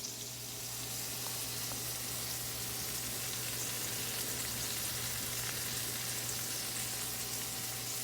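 Sliced green tomatoes frying in a pan, a steady soft sizzle and crackle of hot oil holding evenly throughout with a faint background hum and no talking.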